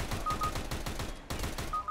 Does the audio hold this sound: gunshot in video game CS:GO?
yes